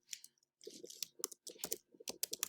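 Keyboard typing in short irregular bursts of crisp clicks, entering a search term on a computer keyboard at close range with brief pauses between groups of keystrokes and no talking.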